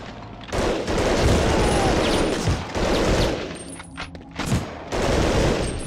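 Gunfire in Medal of Honor Underground, loud bursts of rapid shots in quick succession, broken by short pauses, close and harsh.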